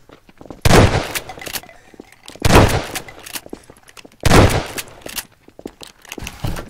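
Gunfire in Garry's Mod Prop Hunt, three loud automatic bursts of about a second each, spaced roughly two seconds apart, with quieter game noise between them and no talking.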